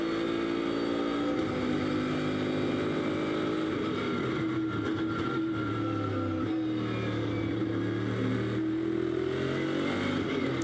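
A Bentley race car engine roars through Silverstone during 2015 free practice. The steady, droning note drops in pitch as the car shifts down through the gears, then builds again.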